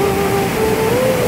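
Steady broadband rush of water flowing in a stream at a flood-damaged riverside, constant and fairly loud, with a faint tonal whine running beneath it and no talking.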